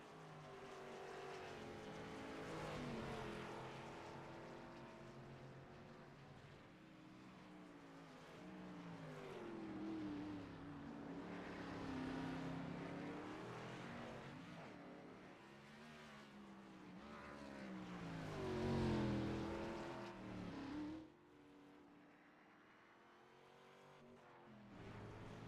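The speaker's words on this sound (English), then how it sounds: "See, the race leader just went around Nick Baum right there" Radio-controlled race cars scream around a track in a race, their high-pitched motors rising and falling as they pass, heard faintly from a distance.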